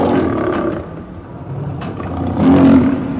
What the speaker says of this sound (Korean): 바로 사자 소리예요.